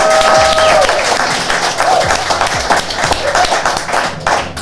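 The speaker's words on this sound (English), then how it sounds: "How about a round of applause for our guests tonight?" Audience applauding guests at a live brewery community event, a dense crowd of clapping hands sustained throughout at close range.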